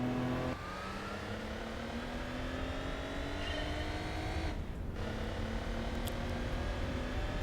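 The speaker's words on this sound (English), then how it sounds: "As this time we're driving an Alfa Romeo" Alfa Romeo 156 engine in Gran Turismo 4, droning steadily at high revs with rising pitch, a brief drop around a gear change, then climbing again, with no talk.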